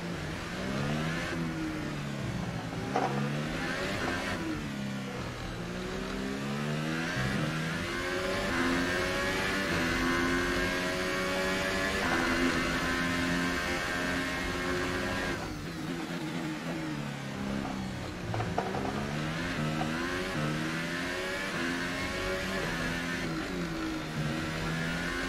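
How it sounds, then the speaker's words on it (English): A McLaren Formula 1 car engine in F1 2018 revs hard at Monaco, its high, buzzing whine rising and falling steadily through repeated acceleration and deceleration. The engine note stays loud and close with no talk. "That engine sounds so broken, it's a joke."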